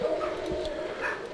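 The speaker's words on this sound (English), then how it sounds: "My dogs are barking," Pet dogs barking somewhere in the house, short muffled yips and woofs behind a low steady background hum.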